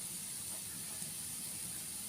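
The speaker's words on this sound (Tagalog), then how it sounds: "ilagay na natin ang sitaw sa ating kawali" String beans sizzle in a frying pan over browned onion and garlic, a steady broadband hiss holding evenly for the whole stretch with a softer low rumble beneath, no talking over it.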